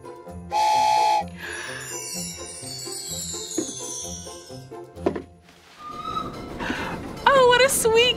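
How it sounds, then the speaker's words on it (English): A sound-effect sequence plays a steady rhythmic chugging, a sharp whistle blast and a long descending whistle tone, ending with bright chimes. "That sound means the candy cane train is about to make a toy delivery for us"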